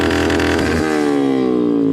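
A vehicle fitted with an altered, non-stock silencer revs hard close by, a loud raspy engine roar that climbs and then drops away as the throttle eases off.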